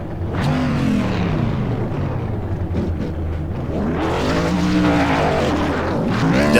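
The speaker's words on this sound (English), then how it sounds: "And he revs that engine up." A race car engine revs loudly and close after a superspeedway race at Talladega, the pitch climbing and falling in repeated surges, with no talk over it.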